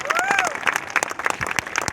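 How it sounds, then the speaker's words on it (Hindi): Crowd applause at a motivational company event in Varanasi, clapping running throughout under a loud voice speaking over it. "हमारे कंपनी के रचयिता डॉक्टर संजीव कुमार सर के लिए जोरदार तालियां होनी चाहिए"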